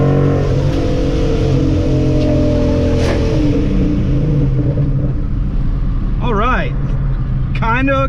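A boosted 2014 Ford Mustang GT accelerating hard, its loud, steady engine roar filling the whole stretch with a rising rev near the end, and a voice talking over it.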